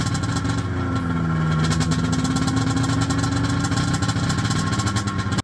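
A Ski-Doo Mach Z Summit snowmobile engine idles close by, a loud, steady, slightly uneven mechanical rumble that holds without revving for several seconds and cuts off abruptly at the end.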